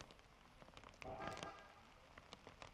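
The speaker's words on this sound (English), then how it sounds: "let's get some rain sound." Soft, steady rain patters and crackles on a surface, quiet and close, with a brief swell of louder droplets.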